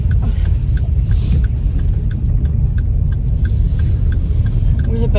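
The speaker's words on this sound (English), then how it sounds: "There's a bin lorry just parked at the roundabout." A parked bin lorry at a roundabout gives off a loud, steady low engine rumble heard from inside a car, with faint repeated ticking over the drone and no speech.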